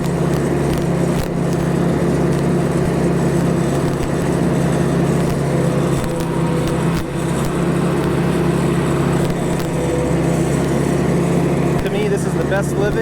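A lawn mower cuts through 4-foot tall grass out in the country, its engine holding a steady, unbroken drone for the whole stretch with a voice speaking over it.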